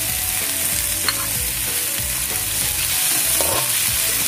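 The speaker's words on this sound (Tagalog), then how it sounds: "So susunod na natin ilagay yung ating chopped tomatoes." Chopped tomatoes tumble into a pan of frying onions and garlic, setting off a steady, close sizzle with stirring scrapes and a few utensil knocks throughout, no talking.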